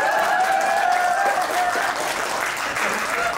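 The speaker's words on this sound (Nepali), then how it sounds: "अरे बुझ्ने ताली बजाउँ भाइ" A live comedy audience breaks into sustained applause, a dense, loud wash of clapping and crowd noise filling the whole stretch, with a faint voice beneath it.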